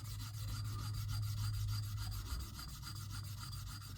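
A hawkbill knife drawn across a fine stone on a KME guided sharpener, giving a steady, close rubbing rasp that runs continuously without pause and with no talk.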